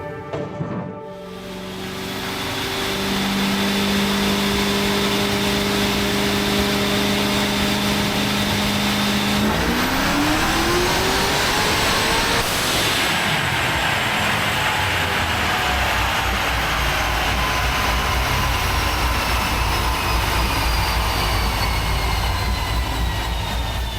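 A Ford Mustang restomod engine revs on a tuning pass, a loud sustained drone that climbs steadily in pitch and then holds at high revs for a long stretch, with no talk.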